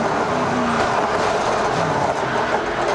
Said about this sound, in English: You could hear the engine bog right down.